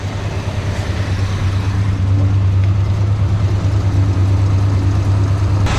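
A steady idling engine hums loudly and evenly, with a faint rapid lifter tick riding on top of the low drone.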